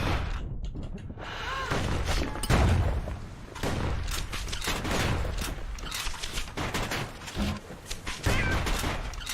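Gunfire in the action game Bastion, rapid bursts of sharp shots and booms in quick succession amid busy combat noise, loud and close throughout.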